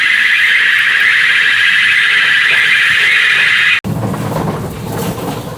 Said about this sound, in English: There's an alarm.